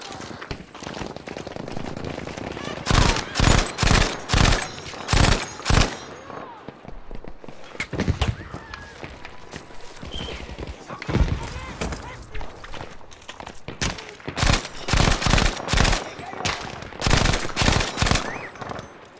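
An MMG in Battlefield V fires in rapid bursts, with loud rattling volleys at the start and again near the end, separated by a quieter stretch of footsteps and game noise, while someone talks throughout.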